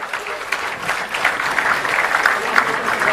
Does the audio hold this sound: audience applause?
yes